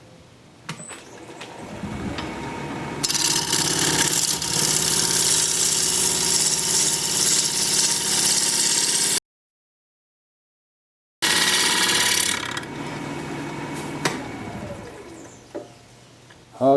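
A wood lathe spins a Japanese quilted maple blank at 1,000 RPM, giving a steady, close mechanical hum with vibration. It drops to a short silence, starts again, then winds down near the end.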